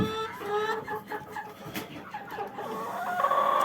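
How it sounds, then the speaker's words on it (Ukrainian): Laying hens cluck close by in a run, a chatter of overlapping short calls and drawn-out squawks rising and falling, with a louder call near the end and no voices. "Є деякі кури, які несуться, ну ще не знеслися."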